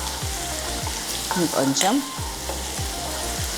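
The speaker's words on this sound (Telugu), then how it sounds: "1/2 టీ స్పూన్ పచ్చిశనగపప్పు, 1/2 టీ స్పూన్ మినప్పప్పు. వన్ టీ స్పూన్ ఫుల్ వెల్లుల్లి పేస్ట్ వేసేస్తున్నాను" Garlic paste with chana dal and urad dal sizzling in hot oil in a pan for red gongura pachadi, a steady close crackle with stirring scrapes and a brief spoken word.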